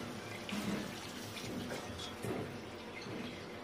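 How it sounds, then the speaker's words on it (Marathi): Hot water is poured into a pot of cooking chicken for a Kolhapuri tambda rassa, making a faint, steady pouring and splashing sound with no talk. "जे झाकणावर पाणी ठेवलेलं होतं गरम ते आता ह्याच्यात घालून घेऊया"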